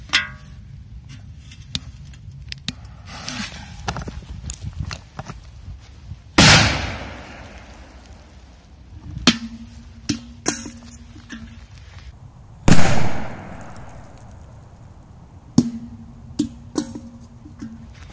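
Two loud blasts from a K1000 firecracker bursting under a metal milk can, each with a sharp bang and metallic clang, spaced several seconds apart amid outdoor rustling and handling noises.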